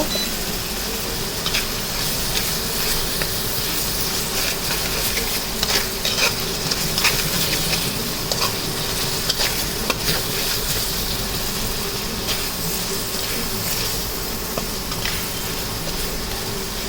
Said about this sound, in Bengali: ইলেকট্রিক চুলার উপরে আমার কড়াইটা মেখে মেখে রান্না করে দিচ্ছে।